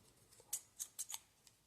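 Heavy-duty scissors snip four times in quick succession, crisp metallic clicks close to the mic in an otherwise quiet room.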